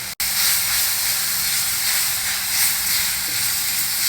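Onion, green chillies and methi leaves frying together in a pan with a little turmeric, producing a loud, continuous sizzle and hiss after a brief clatter at the start.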